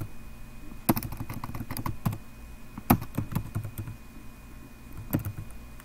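Typing on a computer keyboard in a quiet room, with irregular clusters of crisp key clicks and a few louder keystrokes, close and alone against faint background hiss.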